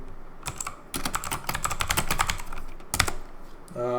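Rapid clicking keystrokes on a computer keyboard patter in an uneven burst for a few seconds, close and clear, then stop before a faint tone appears.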